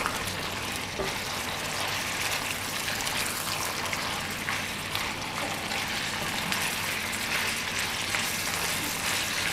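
Onions stirred and frying in a pan for daging masak kurban, a steady close sizzle with wet crackling and bubbling throughout, no talk over it.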